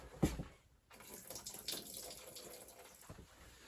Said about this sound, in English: So I dumped about half of the water out of this can of corn, and we'll put that in there.